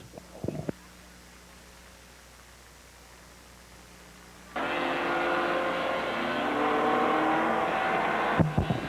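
Can-Am TQ midget race cars motor down the front straightaway at Holland Speedway during a caution in qualifying heats; a loud, steady broadband engine roar swells in midway and holds for several seconds, with no talk over it.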